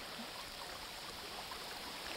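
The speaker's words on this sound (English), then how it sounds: "You can see it's a nice little creek, little stream, and you can see the obvious flow of it" A small, shallow creek running low between lakes in northern Minnesota, heard as a steady, even wash of flowing water that stays constant throughout, with no voices.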